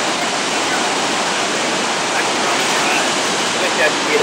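Strong ocean surf rolling in beneath Huntington Beach Pier in California, a steady dense wash of breaking waves with no pause, loud and close throughout.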